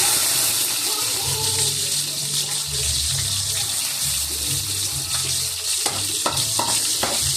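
Garlic cloves fry in hot cooking oil, a steady close sizzle and crackle that runs throughout, with a few utensil clinks near the end.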